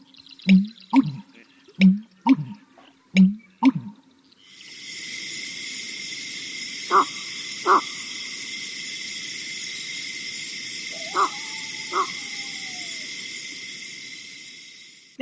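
A marsh in Maine carries the American bittern's booming pump call, a short run of deep gulping notes, then a faint few more under a constant high insect drone.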